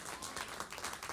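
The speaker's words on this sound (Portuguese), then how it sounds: "Aplauda o Senhor." Church congregation applauding during a Portuguese-language service, a brief burst of dense, moderately loud clapping lasting about a second.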